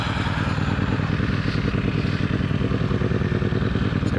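A Yamaha RXV 550 motorcycle engine runs steadily up close, a loud, continuous throbbing idle with rapid rhythmic pulsing and mechanical clatter throughout.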